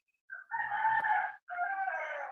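A rooster crows in two drawn-out phrases with a brief break between them, clear and fairly close, with no talk.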